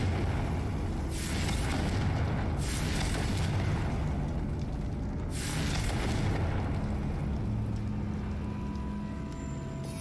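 Confringo fire spell blasts in Hogwarts Legacy, heavy roaring bursts of fiery noise rising over a dense rumbling game background, two or three broad surges in a loud continuous wash.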